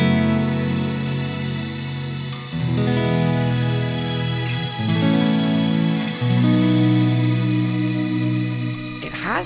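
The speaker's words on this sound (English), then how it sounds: "if I go on shimmer mode, for example, here on the Illumine" Guitar through a Neunaber Illumine reverb pedal in shimmer mode, sustained chords swelling into a bright, octave-shimmering wash that fills the space, with a few chord changes and a sharp burst right at the end.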